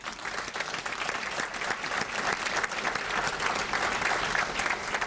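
An audience at a Rotary youth awards night in Delta, BC applauds the event's sponsors with steady, even clapping from many hands, moderately loud and continuous.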